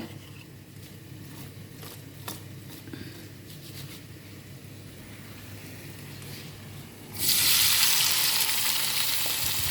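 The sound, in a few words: fish masala mixture frying in oil for tuna biryani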